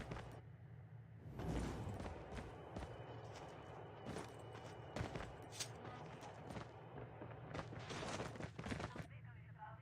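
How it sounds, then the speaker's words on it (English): Gunfire in the mobile shooter Call of Duty Mobile during an esports match, scattered distant shots and short bursts across the span, fairly faint under a constant low game background. "Someone shooting?"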